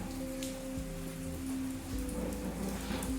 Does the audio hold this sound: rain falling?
yes